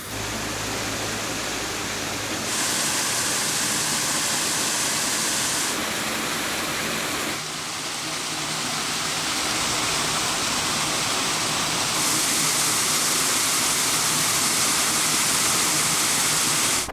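Stream water whooshes steadily into the inlet of a Cardiff reservoir built in the 1800s, a loud, continuous rushing roar with no voices and only slight shifts in texture.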